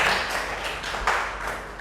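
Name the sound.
classroom applause for a student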